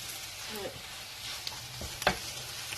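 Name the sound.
stirring spinach with eggs and cheese using a spatula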